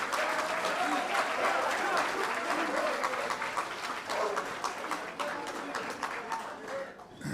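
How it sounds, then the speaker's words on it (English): Audience applause at a college athletic banquet, sustained clapping from a large indoor crowd that continues steadily throughout with some voices mixed in. "stand up and get a round of applause for everything you've done for Fayetteville Tech"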